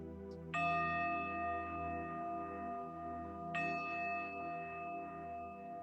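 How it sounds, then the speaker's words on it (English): A meditation bell rings clearly twice, each strike blooming into a long, sustained shimmering tone that slowly fades in a quiet room, with no talking. "Soon the bell will sound, indicating the beginning of today's practice."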